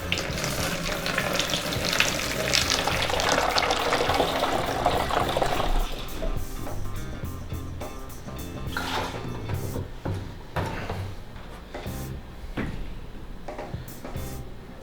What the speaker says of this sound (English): we just want to pour that nice milky layer and leave the darker sediment behind